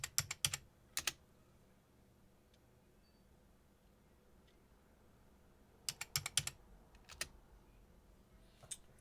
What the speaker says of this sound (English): Type in your password, hit enter and type in your password.